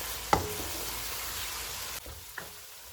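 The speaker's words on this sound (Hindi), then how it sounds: "इनको 2 से 3 मिनट तक भूनेंगे।" Cumin, coriander and spices roasting in a karahi for a chicken tikka dish give off a faint, low sizzle, broken by a brief clatter of a spoon and a soft knock near the end.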